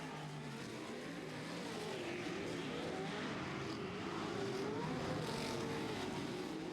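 An off-road racing truck at a Pro 4 / Pro 2 short-course race drives toward the hot pits, a continuous distant engine drone blended with dense crowd and track noise, steady throughout.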